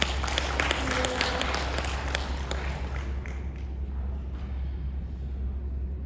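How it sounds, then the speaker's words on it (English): Audience applause after a presenter finishes at a speaking event, a steady wash of clapping that stays fairly loud throughout before thinning slightly toward the end. "Let's give Celia a round of applause."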